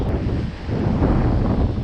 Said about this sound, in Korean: 바람이 강했습니다